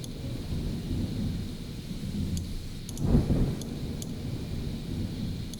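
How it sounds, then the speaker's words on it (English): Low rumbling thunder sound effect with reverb rolls steadily, swelling into a louder crack-like burst midway before settling back into a continuous distant roar. "Got some thunder."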